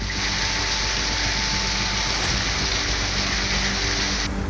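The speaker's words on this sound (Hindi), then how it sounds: "कर्नाटक के बेंगलुरु में भारी बारिश हो रही है।" Heavy rain falls steadily in Bengaluru during a cyclone, a dense, loud, continuous hiss of downpour with no pauses, no voices, and a constant roar throughout.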